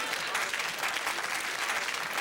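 A studio audience applauds steadily at a television show, a dense even wash of clapping that holds at constant strength throughout with no voices over it.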